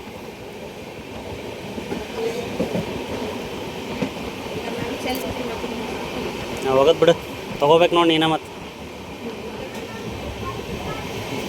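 A passenger train rumbles along past railway gates with a steady rolling drone and faint clickety-clack, heard from aboard, while people talk over it in short bursts.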